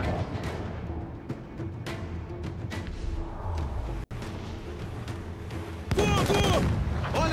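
Cannon and gunfire in a naval battle at a fort in Assassin's Creed IV: Black Flag, a steady barrage of booms and shots with a louder burst of fire near the end and faint voices in between.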